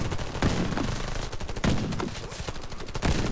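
Rapid gunfire in Warface, the online shooter, with dense repeated bursts of automatic shots blasting continuously through the clip, loud and close, with no talking over them.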